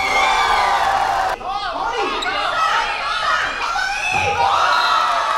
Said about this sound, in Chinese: 而职篮明星教练跟在地校长陈建文与里长王伯利组成的表演赛，让现场加油声不断